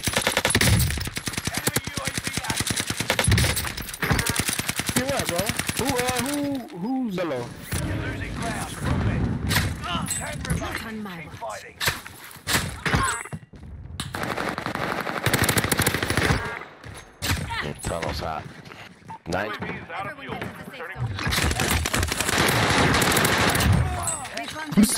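Rapid automatic gunfire from an STG 44 and other weapons in the video game Call of Duty Warzone, dense continuous bursts with booms and brief pauses, with players talking over it.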